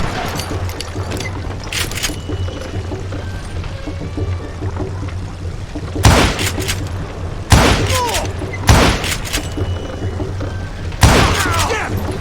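Loud gunshots from a Wild West firefight in the video game Call of Juarez: Gunslinger, four or five sharp cracks spaced a second or two apart over a low rumbling backdrop.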